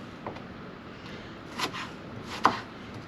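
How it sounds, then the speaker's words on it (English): Onion and peppers being chopped with a knife in an off-grid Alaska kitchen: a few separate, quiet knife strikes on a board, spaced irregularly over low background hiss. "I'm going to cut up a little bit of onion and a little bit of some peppers"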